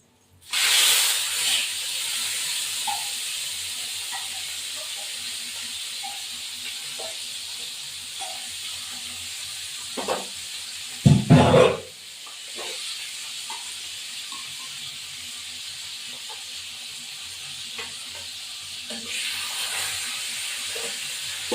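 A low hiss of catla fish pieces frying in oil runs throughout, with a brief louder burst and clatter midway.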